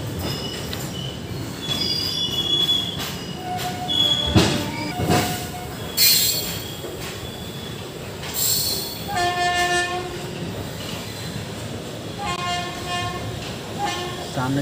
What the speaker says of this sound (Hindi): आपने निर्धारित समय से ट्रेन 10 मिनट के विलंब से दोस्तों खुल रही है प्रतापगढ़ जंक्शन पर